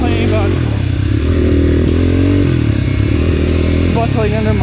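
GPX FSE250E motorcycle engine pulling under a heavy rider, a steady loud drone with shifting harmonics throughout, with someone talking over it.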